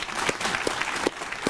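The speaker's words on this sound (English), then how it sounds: "please join me in a huge round of applause for these amazing graduates." Audience of family, friends and school district staff at a 2023 Indian Ridge School graduation applauds the graduates, a dense steady wash of clapping with a few sharp cheers or whoops rising above it.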